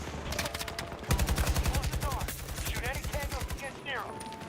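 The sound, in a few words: AK rifle gunfire in a video game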